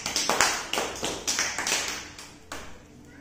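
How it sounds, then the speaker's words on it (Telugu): A class of young children clap together in an uneven burst of sharp, overlapping claps that fades toward the end, close and fairly loud. "Very good. క్లాప్స్ కొట్టండి."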